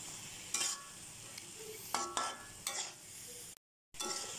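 Paneer and spices stirred in a frying pan, a few scraping spoon strokes over a soft, steady sizzle, close by with a brief dropout near the end and no speech.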